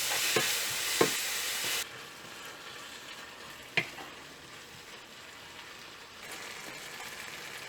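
Boiled beef frying with tomatoes in a hot pan for a beef pepper fry, a steady low sizzle with a few sharp clinks of stirring; the sizzle drops quieter partway through, then rises again near the end.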